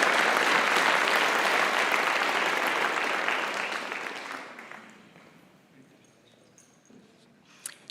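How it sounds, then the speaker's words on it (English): Loud sustained applause from an audience at a school community all-star awards ceremony, clapping densely for about four seconds, then fading away into quiet room noise with a couple of small knocks. "Let's give a round of applause for our all-star Lauren."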